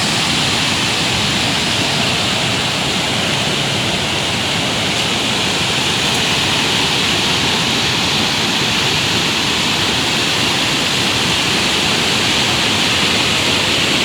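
The Reshi Khola, swollen after heavy rain, rushes in a dense, steady roar of churning water with no break or pause.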